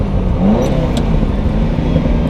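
A Ferrari 308 engine idles loudly up close with a steady, dense low rumble, and a loose front manifold heat shield adds a faint rattle.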